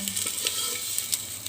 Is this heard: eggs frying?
yes